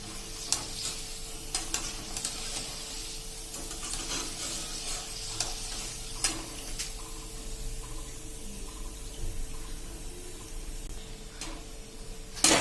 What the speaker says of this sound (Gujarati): તમને મિત્રો ક્રન્ચીનો અવાજ પણ આવતો હશે છે ને.